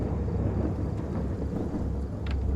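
In the horror video game Fears to Fathom, heavy rain pours in a dense, constant wash while low thunder rumbles through it, steady and close with no voices.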